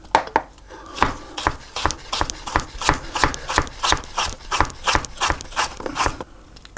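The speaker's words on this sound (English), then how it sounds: "what you can do is just cut little slices that are thin" Kitchen knife cutting vegetables into thin matchsticks for kimchi on a cutting board, a steady run of about twenty crisp chops in a fairly even rhythm, close and clear with no talking.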